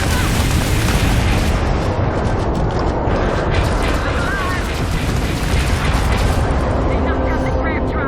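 Gunfire and booming blasts from space combat in the video game Starfield, a dense, continuous barrage of loud impacts and explosions that fills the whole stretch with little pause.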